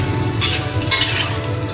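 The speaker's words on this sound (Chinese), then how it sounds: "油热后把腊肉倒进去， 像这样不停的翻炒" Cured pork (larou) stir-fried in hot oil in a wok, a steady close sizzle with soft scraping and stirring sounds and a few brief louder bursts.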